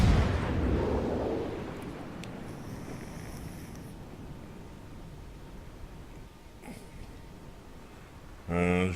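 Naval gunfire in the World of Warships video game, a loud booming blast at the start that fades into a long rumbling decay, with faint game effects later and a burst of sound at the end.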